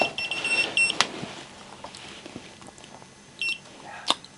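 An ANENG ST212 clamp meter in wiring check mode gives a few short, sharp beeps at irregular moments over quiet handling noise, with no talking.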